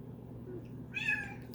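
A cat lets out one short meow in the background of a quiet indoor room, fairly faint over a low steady hum.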